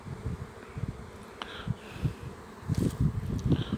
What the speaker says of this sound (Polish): Tak wyglądają pszczoły w listopadzie.